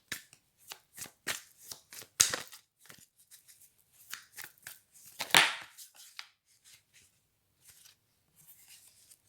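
Playing cards being shuffled for a card reading, a string of crisp riffles and flicks in uneven bursts, close and fairly loud, with no talking.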